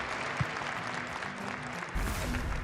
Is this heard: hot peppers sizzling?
no